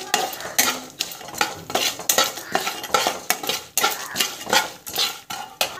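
Dried red chilies, chili powder and chana dal sauté in a pan for puliyogare, with a metal spoon clanking and scraping in quick, repeated strokes over a soft frying hiss, close and fairly loud.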